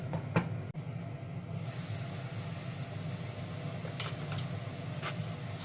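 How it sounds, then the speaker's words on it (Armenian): Mushrooms and onions fry in a pan, giving a steady low sizzle throughout with a few faint clicks and scrapes of stirring, quiet and close, with no talking. "Մի լավ խառնեմ սունկը սոխի հետ, բերանը ծածկեմ, թողնեմ, թող սոխի հետ տապակվի սունկը"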